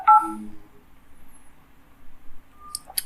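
On a OnePlus dialer, a few short keypad tones beep near the start, then a quiet stretch gives way to more brief dial tones near the end, with no talk.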